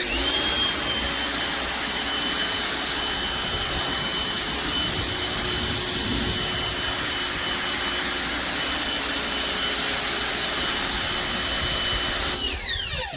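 A pressure washer rinses deck stripper suds off a wooden deck, a loud steady high-pitched whine with a constant spray hiss that holds unbroken before cutting off at the end.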